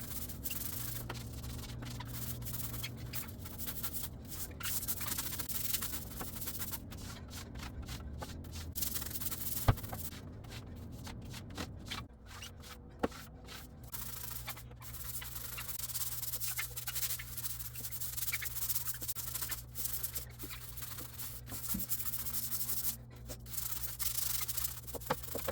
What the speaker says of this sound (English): I'm going to scrub down the kitchen floor.